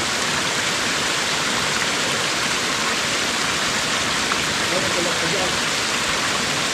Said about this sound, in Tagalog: yung lupa nila merong sapa katulad nito, merong tubig.